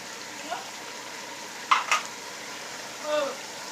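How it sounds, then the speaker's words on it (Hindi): Spices for mutton biryani fry in a pot with a steady low sizzle, punctuated by a few brief stirring scrapes and clinks near the middle and end. "मसाले ऐड कर दिए हैं, 2 से 3 मिनट तक भूनेंगे"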